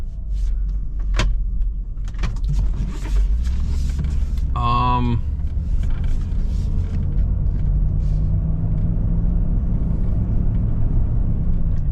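Jeep Grand Cherokee WJ rolling out, with a steady low engine rumble throughout, a brief power-window whir midway and a few faint clicks and knocks from the cabin; a person talks softly at times.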